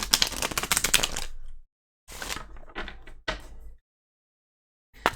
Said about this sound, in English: I'm going to give these a good shuffle here.